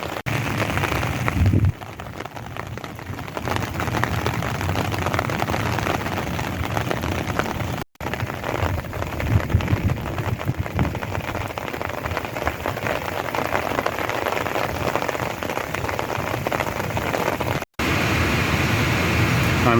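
Steady rain falls across school grounds during a record downpour from Tropical Storm Alvin in the desert, a dense, even hiss of drops on surfaces that runs almost unbroken, with brief near-silent gaps.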